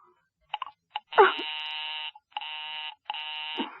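A telephone busy signal from a radio drama sounds as a buzzy electronic tone in repeated bursts with short gaps, loud and close, and a brief click or voice fragment near the start.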